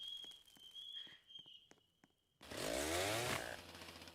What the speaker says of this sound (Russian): Бензопила.